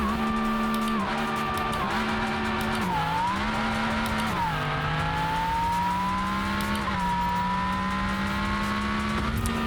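An Italian car with roughly 190 horsepower accelerates hard down a drag strip, its loud, close engine climbing through the revs. There are several gear shifts where the pitch drops and then rises again, and it roars steadily for the whole run.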